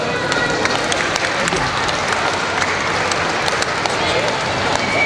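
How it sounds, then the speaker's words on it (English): Sustained audience applause fills a presentation night, a dense wash of many hands clapping steadily for about five seconds, with a few voices mixed into the crowd noise. "Give a clap, everyone."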